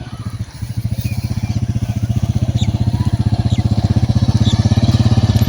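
A motorcycle pulls up at a police checkpoint, its engine idling close by with a loud, even, rapid putter throughout, a slight surge at the start, and faint voices in the background.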